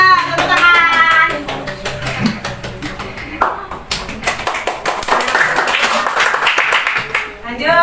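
A school class in Indonesia claps for a classmate during a lesson about the planets. Many quick, overlapping claps fill the room, mixed with children's voices and chatter, and the applause stays fairly loud and steady throughout.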